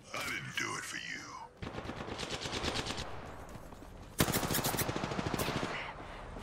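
Gunfire in the battle royale game Apex Legends, heard as rapid automatic bursts, close and loud, with a brief gap between two bursts, and a voice heard at the start.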